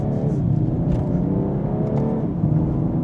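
A BMW M240i engine runs steadily as the car drives, a constant low rumble and whir from inside the cabin with no voices.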